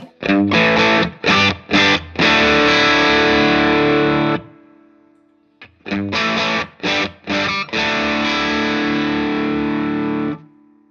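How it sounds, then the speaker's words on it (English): Heavily distorted electric guitar chords through a boost pedal placed after the distortion ring out loud, in two phrases of chopped stabs followed by long sustained chords, with a short pause between. "If I want that sound louder without changing the amount of gain, I'd simply put the boost on after it."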